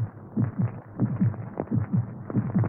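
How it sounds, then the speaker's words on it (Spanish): A human heartbeat thumps in a steady low rhythm of paired beats over a faint hum, repeating for a few seconds with no voices. "Este es el latido de un corazón humano."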